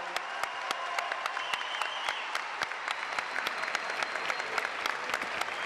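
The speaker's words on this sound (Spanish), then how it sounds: "nuevamente al presidente Alberto Fernández, que suene el aplauso." An audience at an event honoring Argentina's president Alberto Fernández claps in sustained applause, with sharp individual claps standing out against the crowd at moderate distance.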